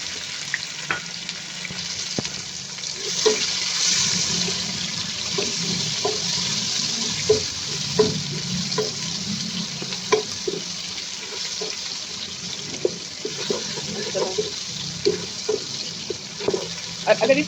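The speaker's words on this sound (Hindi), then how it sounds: "अब इसी पॉइंट पे हम इसमें जो हमारा लहसुन अदरक का पेस्ट है वो भी फ्राई हो चुका है।" Garlic and ginger paste fries in oil in a pan for chana pulao, a steady close sizzle with scattered clinks and scraping from stirring.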